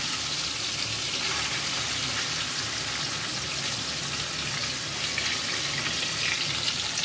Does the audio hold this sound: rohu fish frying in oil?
yes